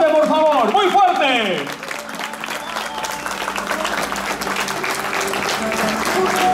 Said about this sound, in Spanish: el aplauso de la concurrencia. Muy fuerte, por favor, muy fuerte.